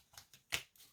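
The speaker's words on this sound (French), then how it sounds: "Je vais prendre 2 cartes." Tarot-style playing cards are pulled from a deck with four short, soft papery slides and flicks, one sharper than the rest, close and quiet with no voices.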